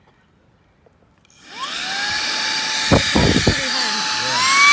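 A Smart Sakers handheld 3-in-1 vacuum switching on in air-inflator mode, a sharp whine rising quickly to a loud steady high-pitched blowing roar, heard close, with brief voices underneath.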